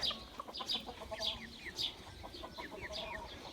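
Chickens in a backyard coop cluck close by, a run of short, repeated calls overlapping at a moderate level with no talking.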